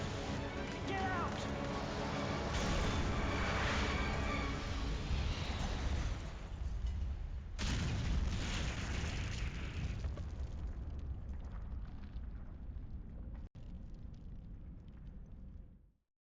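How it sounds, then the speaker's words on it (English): A video game explosion in Resident Evil Outbreak, set in a fire-destroyed hotel: a loud, sustained roaring blast rumbles for many seconds, with a second burst partway through and a sharp cut before it fades out. "It's gonna blow!"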